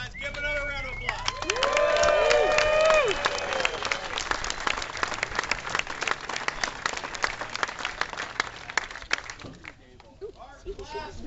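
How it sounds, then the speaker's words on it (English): Crowd applause and clapping at the closing trophy ceremony of a 24-hour LeMons endurance car race, loud and sustained, building early then thinning into scattered claps with cheering and crowd chatter mixed in. "Give another round of applause."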